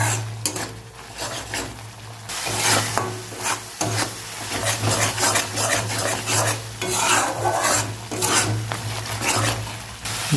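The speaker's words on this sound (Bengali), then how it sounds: "এই মশলা ভালো করে কষে নেব।" Turmeric, chili and cumin powder masala with chopped coriander is stir-fried in a pan for a boiled egg curry, a continuous rhythmic scraping of a spatula over a soft sizzle, close and fairly loud throughout.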